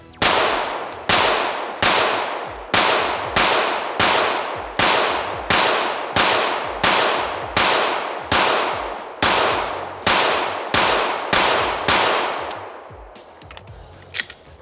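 A CR920XP pistol with an upgraded recoil spring fires 124 grain competition rounds, about seventeen loud, sharp shots in a steady rapid rhythm, each ringing briefly before the next, then stopping.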